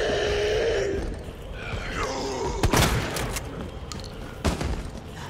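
Gunfire in Resident Evil 2, a few sharp shots and booms scattered through the clip amid game ambience and creaks, moderately loud and alone without talk.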